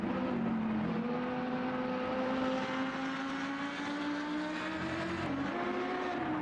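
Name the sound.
faster class race car approaching in a racing game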